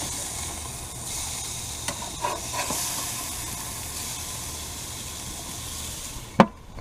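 Hamburger patties sizzle in a pan while cooking inside an RV, giving a steady, close hiss throughout with a few faint clicks and one sharp knock near the end.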